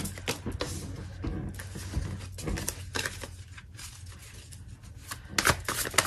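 Tarot cards are handled and drawn from a deck, with close, rapid papery flicks and shuffling rustles in irregular bursts over a low steady hum, growing busier near the end.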